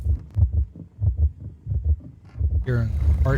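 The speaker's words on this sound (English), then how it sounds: "Hearing a heartbeat." A steady, throbbing heartbeat from the horror video game One Eyed Likho, pulsing in regular double thumps close and loud, joined near the end by a brief burst of other sound.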